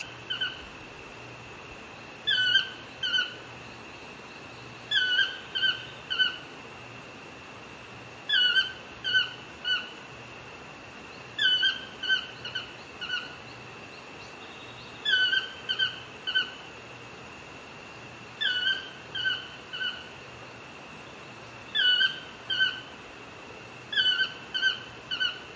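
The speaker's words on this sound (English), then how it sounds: "that tree over there is like where a toucan likes to sit in and sing" A toucan calls from a jungle tree, sending out short squeaky calls in small clusters of two or three that repeat every few seconds at moderate distance over a low, steady hum.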